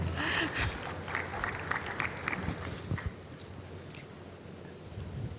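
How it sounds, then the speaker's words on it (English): An audience at a continental youth, women, peace and security dialogue applauds. The clapping is fairly quiet and fades after a few seconds into softer background noise. "We can give her a round of applause."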